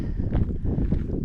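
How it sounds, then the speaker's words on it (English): Strong wind buffets the microphone in a dense, low rumble, continuous and close for the whole moment, outdoors on a walk along the Camino de Santiago. "Probably can't even hear this because it's really windy"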